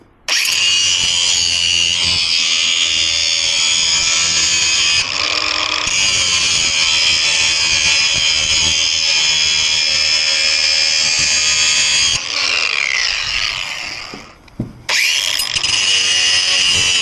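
A power grinder sharpening out a gouge in a lawn mower blade, a loud, steady, high-pitched whine that runs almost continuously, with short dips and a brief break near the end.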